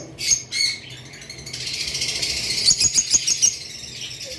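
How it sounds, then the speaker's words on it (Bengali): A pair of blue Fischer's lovebirds chirps nearby, with two sharp calls followed by a run of rapid, shrill squawking and chattering, loud and close. "এই যে ব্লু ফিশারের একটা পেয়ার রয়েছে দেখতে পারতেছেন"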